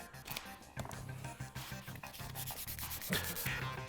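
Duct tape being rubbed hard over acrylic paint on a handmade sci-fi helmet, a close, continuous scratchy rubbing with repeated strokes and no talk.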